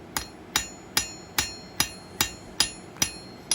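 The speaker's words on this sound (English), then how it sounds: "I'll use my cross peen hammer, and using the peen, I'm going to go back over where I knocked in the deeper veins" A cross peen hammer lightly taps a hand-forged leaf key ring, adding vein texture: nine evenly spaced, sharp metallic strikes with ringing decay, close and clear, without speech.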